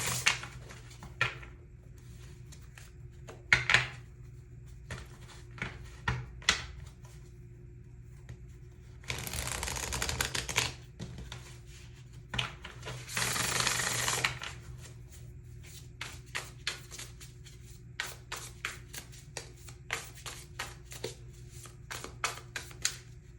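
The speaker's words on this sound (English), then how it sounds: "So I'm just going to do a couple rounds of shuffling" Tarot cards being shuffled by hand for a card reading: repeated riffles and flicks in short bursts, with two longer, louder riffle runs midway, close up and with no talking.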